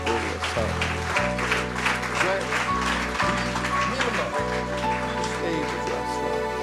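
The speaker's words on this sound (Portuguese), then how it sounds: "Damos um aplauso para Jesus." A church congregation claps and applauds over loud worship music, with a deep sustained bass line shifting notes underneath, and voices mixed in throughout.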